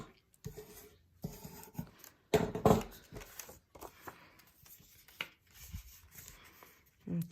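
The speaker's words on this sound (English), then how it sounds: "I started creasing every line with the scissors." Scissors rub along paper to crease fold lines for a paper fortune teller, giving scraping, rasping strokes in uneven bursts with one louder scrape near the middle, close and unaccompanied.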